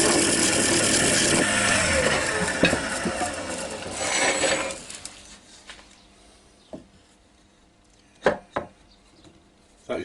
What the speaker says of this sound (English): So I'll just go at it very gently with a skewed chisel